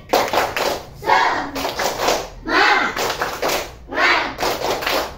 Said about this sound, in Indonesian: Kita melakukan tepuk semangat supaya lebih bersemangat dalam mengerjakan tugas.